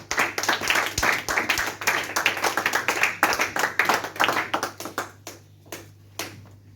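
Church congregation clapping together, a loud close burst of many overlapping claps that thins to scattered separate claps before stopping.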